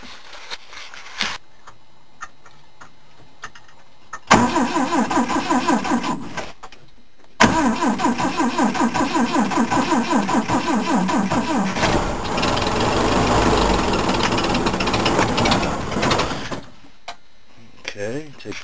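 1962 Hydrodyne boat engine cranking in a short attempt, pausing, then catching and running into a steady rough idle, loud and close, with brief speech near the start.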